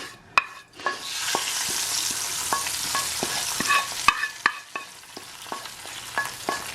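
A spoon stirring dal mixed with fried tempering and tomato, giving repeated clinks against the pot over a soft ongoing sizzle, close and moderately loud, with no talking.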